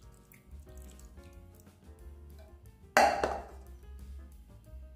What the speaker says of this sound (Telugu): స్ట్రైనర్ పెట్టేసేయడం వల్ల కిందికి వాటర్ అంతా పోయి తొక్కలుగా ఉంటాయి కదా